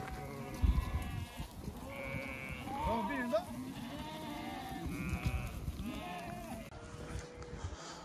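Hungry sheep bleat repeatedly while feeding on baled hay on barren land, several animals calling close by in overlapping cries, with a person talking among them.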